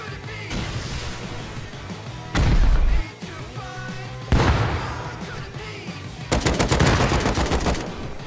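Combat in the survival game Rust brings a heavy grenade blast and bursts of rapid gunfire, loud and close, with several separate booming bangs and a dense crackling volley near the end.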